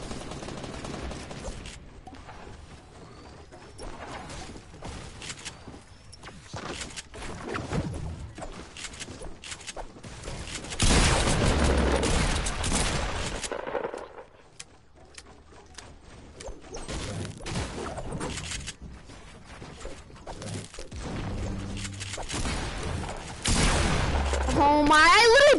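Assault rifle gunfire in a fast video game firefight rattles in bursts throughout, mixed with crashes and whooshes while a player talks over it.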